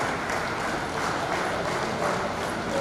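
Applause from an audience at a religious gathering in Aurangabad rolls on as a steady, diffuse wash of clapping at moderate loudness, heard from some distance with no distinct voices.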